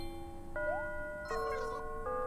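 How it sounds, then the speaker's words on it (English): A bell chime from the video game Animal Crossing: New Leaf plays as a series of clear electronic tones, rising then settling into sustained notes, over a faint background. "I got distracted by the bell"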